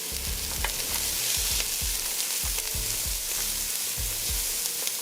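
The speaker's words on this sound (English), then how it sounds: "it's the process of sauteing aromatics in hot oil" Aromatics and chopped shadon beni sauté in hot oil for a Trinidadian curried seim and potato dish, giving a steady close sizzle with repeated stirring scrapes and spatula knocks in a loose rhythm, no voices.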